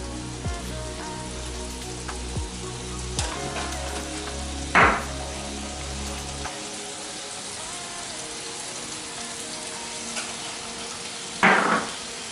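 Several dishes simmer and fry together in pans on a home stove, giving a steady sizzling, rain-like hiss with a couple of brief louder bursts of frying.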